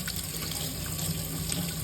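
Embroidery being rinsed under running tap water to dissolve a water-soluble stabilizer, a steady close splashing flow with no talk over it.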